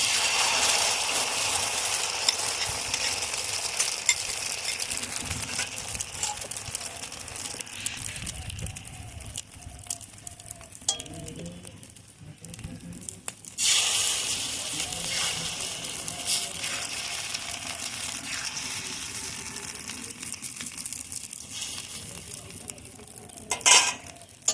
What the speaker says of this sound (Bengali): এখন তার মধ্যে তেল দিয়ে দিচ্ছি। এখন ডিমের মিশ্রণটি ঢেলে দেব।